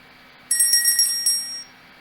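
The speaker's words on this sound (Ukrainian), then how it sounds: "Так, це дзвінок, дзвоник." A bright electronic bell rings in a quick burst of several rapid strikes, lasting about a second against a quiet background.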